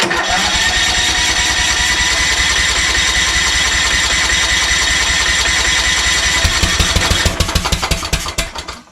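A Kohler Courage 20 engine fitted to a Craftsman YS4500 lawn tractor runs close and loud with a steady rapid chug, then stumbles and winds down near the end.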